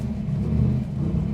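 A 1965 Shelby GT350 with side exhaust and a 4-speed gearbox pulls away on the road, its engine giving a steady, deep, close rumble throughout.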